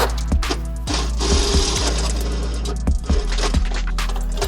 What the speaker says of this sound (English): So we'll quickly whack this hole saw through